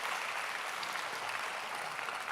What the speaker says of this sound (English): those of y'all who are in the room, if you're alive, will you clap your hands?